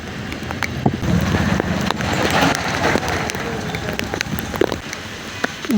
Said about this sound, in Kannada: ಜೋರು ಮಳೆ